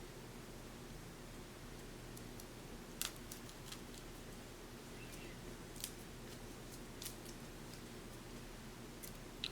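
Scissors snipping through a wig cap, a scattering of faint, sharp clips spaced irregularly over steady background hiss, with no talking.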